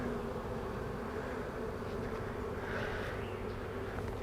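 Honeybees buzzing steadily around a hive being reduced to a nucleus colony, a dense continuous drone of many insects close by, with no talk over it.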